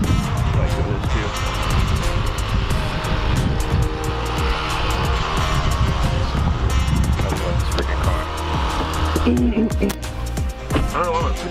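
A Porsche Taycan Turbo S accelerates hard, its electric drive rising in a loud, sustained whine with road and tyre roar, while people inside talk and react excitedly over it.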